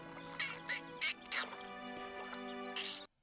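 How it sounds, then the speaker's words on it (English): A turtle duck in the Avatar: The Last Airbender cartoon quacks several times in short, bright bursts over a steady tonal musical background, ending abruptly. "Is that a turtle duck?"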